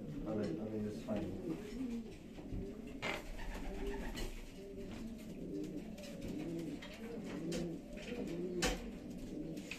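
Racing pigeons sitting in their loft after a flight, cooing in soft overlapping rolling calls that repeat steadily, close and moderately quiet, with a voice speaking over them.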